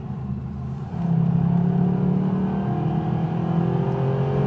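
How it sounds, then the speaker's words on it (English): A Mercedes SLS AMG's naturally aspirated engine revs loud and close, a sustained rising roar that swells after the first second and holds steady, smooth and linear, with no talking over it. "this engine is peachy. I mean, you can hear how good it is"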